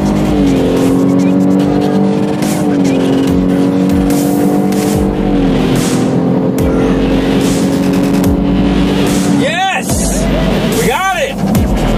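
Whipple-supercharged Ford F150 Raptor with the Stage 1 EcoBoost kit on a timed acceleration run: a loud, sustained engine roar climbs through gear shifts, then passing vehicles whoosh by in the final seconds.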